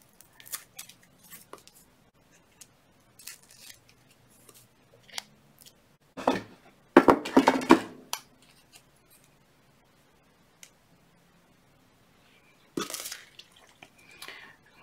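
Scissors snip tape away from a wire-wrapped heart pendant, heard as a few sharp, close clicks and crisp cuts with quiet pauses between them, plus faint handling rustles.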